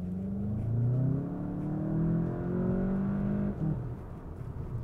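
A 2024 Volkswagen Jetta GLI's turbocharged engine pulls hard under acceleration, a loud, steady rising drone climbing through the gears before easing off near the end.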